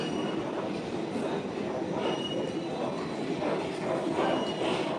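Underground at Phoolbagan metro station in Kolkata, a train rumbles loudly and continuously with squealing wheels and faint rhythmic rail clatter.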